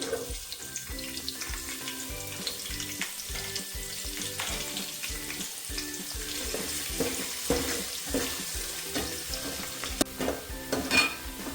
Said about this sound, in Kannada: ನೋಡಿ, ಈರುಳ್ಳಿ ಇಷ್ಟು ಫ್ರೈ ಆಗಿದೆ, ಆಲ್ಮೋಸ್ಟ್ ಡ್ರೈ ಥರ ಫ್ರೈ ಆಗಿದೆ.